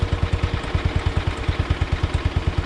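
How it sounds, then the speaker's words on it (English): A 1969 140 engine idling steadily up close, its low, even firing pulses thumping in a quick regular rhythm with no other sounds. "the engine runs great. No smoke, nothing along those lines. Nice and quiet"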